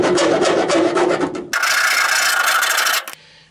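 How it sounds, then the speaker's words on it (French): A hand file rasps across sheet metal during finishing work on a Citroën Traction 11B front seat belt installation, producing loud, close, continuous strokes that end abruptly. "je fais la finition avec une lime."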